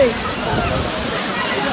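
Rushing, roaring water of nearby Kempty Falls in Mussoorie, Uttarakhand, a dense continuous wash of sound with no pauses.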